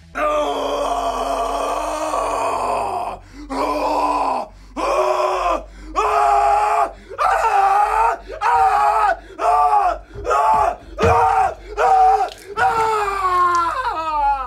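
Nicolas Cage screaming in the film Mandy: a long, raw, anguished yell, then a string of hoarse, sobbing screams in rhythmic bursts, loud and close throughout.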